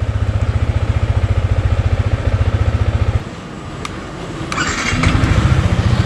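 A Yamaha R15 V4 motorcycle idles nearby with a steady, rapid low throb, briefly dropping off midway before the engine note returns and swells again, with no talking.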